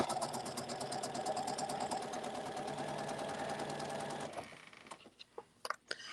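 A sewing machine runs steadily for about four seconds while a cuddle infinity scarf is stitched, then stops, leaving a few faint clicks and handling noises.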